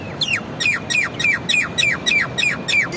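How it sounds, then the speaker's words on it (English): Common myna squawking in a steady run of about eight harsh, descending calls spaced roughly every third of a second, close and loud over a faint background. "This bird is called the common Myna."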